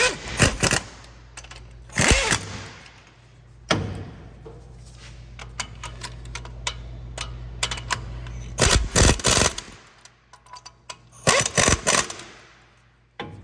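An impact wrench fires in several loud rattling bursts on a Dodge Ram's wheel hub and steering linkage, separated by pauses with a low idling hum, close and harsh.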